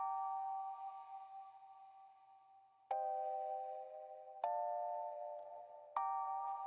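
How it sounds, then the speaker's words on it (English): A retro bell synth preset from Omnisphere called In Memoriam plays a sequence of sustained, ringing bell tones, each new note struck sharply and decaying slowly, clean and alone without other sounds. "this is a bell that's used in a lot of like different songs"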